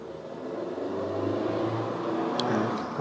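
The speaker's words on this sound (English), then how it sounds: "there goes the guy with the Porsche" A Porsche passing nearby outdoors, a steady mid-pitched engine hum and whoosh that swells slightly and holds at moderate loudness for a few seconds, with faint higher clicks near the end.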